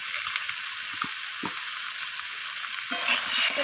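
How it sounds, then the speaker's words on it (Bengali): Vegetables with small shrimp sizzle steadily in a hot pan while being stirred, a continuous close hiss of frying with occasional scraping clinks from a spoon, no talking. "তো আমি আবারও সব কিছু এইভাবে নাড়াচাড়া করে কষিয়ে নিচ্ছি।"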